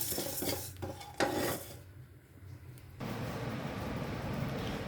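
Cooked rice being stirred in a pot to cool, with close scraping and clinking of a spoon against the metal vessel, then a steady low rush of background noise; no talking.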